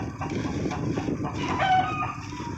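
Chickens in a farmyard: a hen clucking and a rooster crowing, fairly faint and mixed with background noise in a short stretch.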